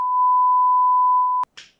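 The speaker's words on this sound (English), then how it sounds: "Beep that out, editor, please." A single steady censor bleep, a pure electronic tone lasting over a second, cuts in loudly over a podcast conversation and stops abruptly, followed by a brief fragment of sound.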